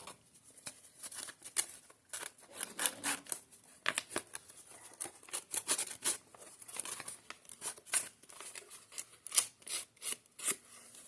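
Craft paper being ripped by hand during a journaling project, heard as a long series of close, dry rasping and crinkling tears with short pauses between pulls, no voices.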